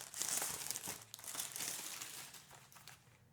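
A plastic case is pulled off a new AJAZZ AK980 keyboard, giving a close, quiet stretch of crinkling and crackling plastic with small irregular bursts and no talk.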